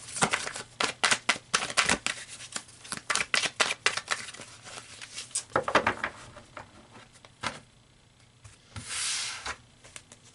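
Tarot cards being shuffled and pulled from the deck, making a quick run of crisp, papery riffling taps that comes in busy bursts, then slows into a few separate slaps and a soft sliding swish near the end, close and moderately loud.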